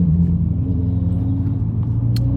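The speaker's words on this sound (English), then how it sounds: "I don't know if this phone will pick up the engine tone, but it's ready to go" A 2020 Mini Clubman JCW engine drones as a low, steady rumble from inside the car while it drives toward a motorway, with no revving and no talking.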